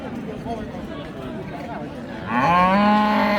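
Friesian dairy cows low at a busy rural cattle market in Dinajpur, where people chatter throughout. One sustained moo rises clearly above the hubbub near the end.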